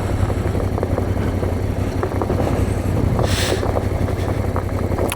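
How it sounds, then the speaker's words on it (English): Voge DS 625X motorcycle rolling along in second gear with the throttle shut, a low steady engine idle rumble under heavy wind buffeting, no talking. "I've got the throttle actually shut now, and it's just idling along"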